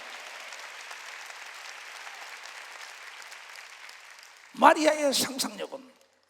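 A church congregation claps during Sunday worship, a steady soft patter of applause that carries on for several seconds before a speaking voice cuts in near the end.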